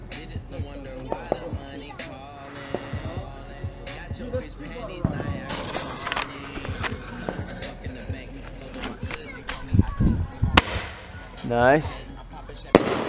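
Black Cat, World Class and Cutting Edge consumer fireworks at a July 4th backyard show, popping and crackling in repeated bursts with several loud booms later on, while people cheer and talk over them.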